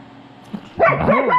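A small Chihuahua lets out a short, close burst of yappy barks and whiny yips after a quiet pause, loud and sharp for about a second.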